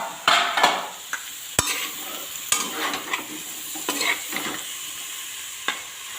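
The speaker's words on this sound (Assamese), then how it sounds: "কঁঠালখিনি এনেদৰে ধুনীয়াকৈ ভাজি লৈ হোৱাৰ পিছত" Potatoes and jackfruit sizzle and fry in a pan, stirred now and then with sharp scraping clicks of a utensil against the metal, close and fairly quiet, with no voices.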